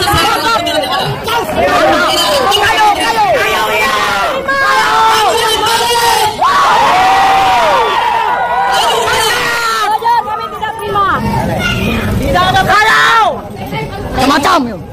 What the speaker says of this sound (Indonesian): Teriakan, teriakan.